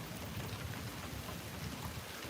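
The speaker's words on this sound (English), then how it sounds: "can you guys hear the rain? Because I'm getting wet right now." Steady rain pours during a summer thunderstorm in Tulsa, Oklahoma, heard from a front porch as a constant even hiss and patter that never lets up, with no one speaking.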